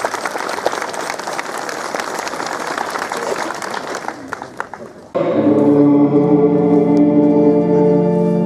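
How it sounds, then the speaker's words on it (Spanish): Strong, sustained applause from a crowd of worshippers at an Easter Holy Week mass in Huanta, with dense clapping filling the first half before a swelling tonal music-like passage takes over. "Fuertes palmas para el Señor"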